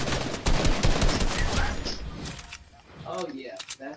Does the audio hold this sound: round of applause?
no